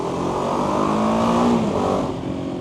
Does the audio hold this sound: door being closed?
no